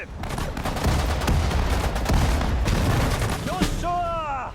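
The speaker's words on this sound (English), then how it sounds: "We'll go ahead and toss a bunch of grenades there." Grenades and gunfire in the World War II strategy game Sudden Strike 4, a loud continuous barrage of blasts and shots with no gaps, ending in a few high whistling tones.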